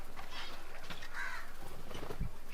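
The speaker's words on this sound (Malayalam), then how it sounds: "ഇത് നമ്മുടെ ഒരു റെഡ് ലോറിയാണ്" A red lory parrot in a pet shop gives a few harsh, squawking calls, close and moderately loud, over low room noise.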